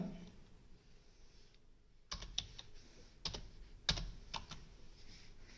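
Typing on a computer keyboard while entering data in an Excel spreadsheet: a brief near-silent pause, then a burst of close, crisp key clicks with a few louder taps, over low room noise.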